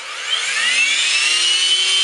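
A Synergy E6 electric RC helicopter motor runs at full throttle, giving a loud, steady high-pitched whine with rising tonal lines, close and continuous with no voices.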